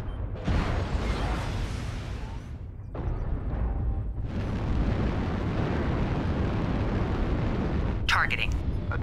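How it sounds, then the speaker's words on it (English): Heavy weapon explosions boom and rumble in MechWarrior Online, a Victor mech battle, in loud sustained bursts separated by brief drops, with a sharp crackle near the end. "Weapons explosion detected."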